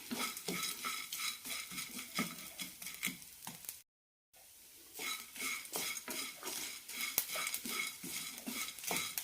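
Grated coconut and lentils roasting in a pan for bitter gourd chammanthi powder, a spoon stirring and scraping in steady rhythmic strokes with faint sizzle, close and continuous, broken by a brief silent gap.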